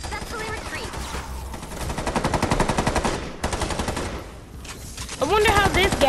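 Rapid automatic gunfire from the video game Fortnite (Save the World), dense and loud, rattling in sustained bursts with brief pauses, with a voice speaking over parts of it.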